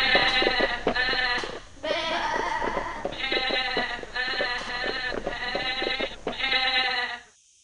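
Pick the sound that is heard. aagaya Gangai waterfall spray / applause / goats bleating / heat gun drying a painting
goats bleating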